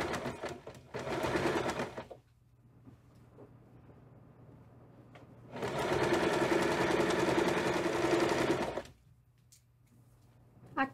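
Sewing machine stitching fabric for a sousplat, two bursts of steady motor whir with a fast needle rhythm, close by, separated by a quiet pause.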